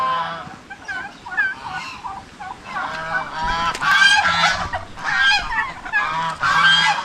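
Geese honking loudly and repeatedly close by, a raucous overlapping chorus of calls that continues for the whole stretch, with no talking.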